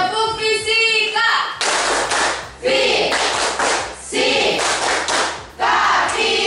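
A school class claps in a rhythmic physics clap, sharp volleys of hands arriving in bursts with short pauses between them, loud and close, with voices chanting along.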